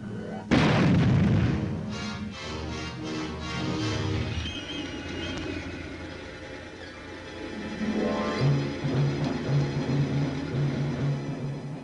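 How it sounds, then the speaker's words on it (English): A Canadian Army tank gun fires once with a loud, deep boom that rolls and echoes for several seconds, followed by lingering rumble and orchestral music from a wartime tribute film. "800, tank, fire!"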